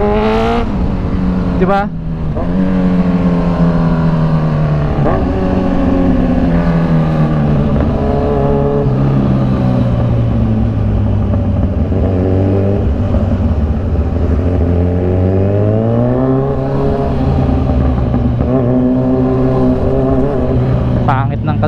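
A Kawasaki Z1000 big bike engine revving and idling up close, loud and continuous, its pitch rising and falling through the stretch while a voice speaks briefly early on.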